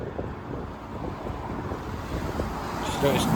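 Steady wind buffets the microphone with a low, rumbling roar that keeps going throughout.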